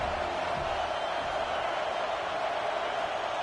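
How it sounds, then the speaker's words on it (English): Steady, moderately loud stadium crowd roar from an NCAA college football video game, a continuous broadband wash with no distinct cheers or peaks, heard alone without talk. "This crowd ready to make its presence known."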